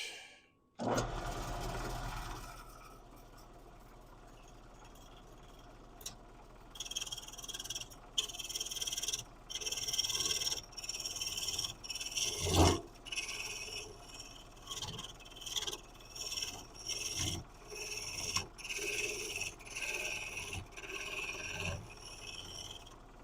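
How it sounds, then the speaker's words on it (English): A spindle gouge cutting a spinning workpiece on a woodturning lathe, starting with a motor hum, then an irregular series of loud raspy scraping bursts over the steady whine of the lathe, close and without talking. "I think I will use my spindle gouge first."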